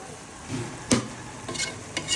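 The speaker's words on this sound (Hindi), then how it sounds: "बस ऐसे ही मैं चम्मच हिलाती रहूँगी" A spoon scrapes and stirs through carrot halwa in a pan with almonds and sugar, a few soft sizzling scrapes and one sharper clink of metal, close up and quiet with no voices.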